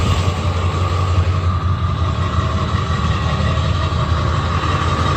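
A Ford 7.3 Powerstroke diesel service truck engine idles steadily, a low constant rumble with a faint rattle and a high whine, near and unchanging with no speech.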